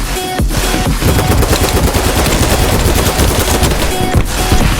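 Rapid automatic gunfire in the shooter game BattleBit Remastered, a loud, dense stream of close shots running almost without pause for several seconds.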